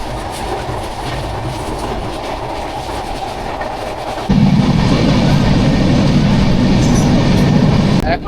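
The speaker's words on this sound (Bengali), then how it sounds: "এখন আছি মধুমতি এক্সপ্রেস ট্রেনে।" Madhumati Express train running fast on the rails, a loud steady rumble with rhythmic clickety-clack of wheels, growing heavier partway through and continuing without a break.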